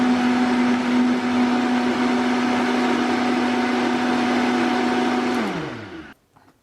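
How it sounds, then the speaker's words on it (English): A blender runs steadily on high, whirring a green plant-based protein smoothie with greens and ice, a loud continuous motor drone that holds for several seconds and then drops in pitch as it slows and cuts off. "turning your blender on high to low helps a lot in making sure that you get it nice and smooth"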